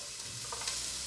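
Onions frying in warmed oil give a brief, steady, close-up sizzle with a faint crackle and no voices.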